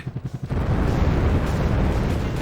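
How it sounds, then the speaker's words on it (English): A castle blows up in a Sega Saturn video game: a quick run of pulsing thuds, then a loud, sustained rumbling explosion roar that fills the rest of the moment. "I'm gonna blow up the castle."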